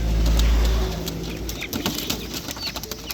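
Pigeons coo at the Konnagar pet market with soft repeated calls and occasional wing flaps. A low rumble at the start fades into busy outdoor background noise.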